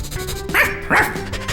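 A cartoon dog gives two short, close, loud barks about half a second apart over quiet background music.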